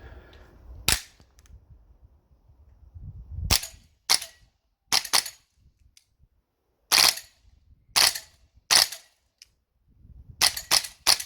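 Gas blowback shots from an APFG VFC Rattler airsoft rifle fired during a chronograph test: about a dozen sharp, loud cracks, some single and some in quick pairs, separated by irregular pauses in near silence.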